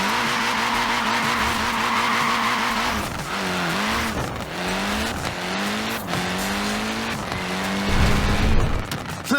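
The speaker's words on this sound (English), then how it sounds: "Look at that, laying down some rubber there." Tiny Mini tyres squeal and skid in Forza Horizon 4 as a small car slides, the engine revving and whining in repeated rising sweeps over several seconds, loud and close, ending with a heavier burst of tyre scrub.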